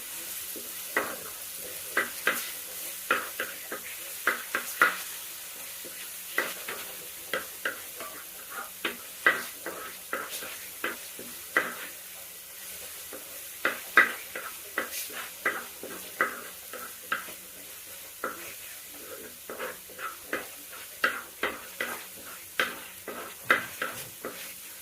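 Garlic sizzles in a hot pan while curry is being made, with a steady frying hiss broken by frequent clicking stirs of a spoon against the pan, close and busy throughout.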